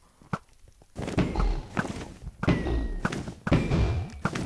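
A Minecraft player strikes a mob on the head repeatedly, producing a series of close, dull thuds and thumps in irregular clusters, several blows landing in quick succession.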